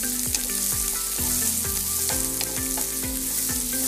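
Fenugreek, sliced garlic, ginger, chopped shallots and slit green chillies frying in hot oil, a steady dense sizzle with repeated scraping strokes of stirring, close and constant.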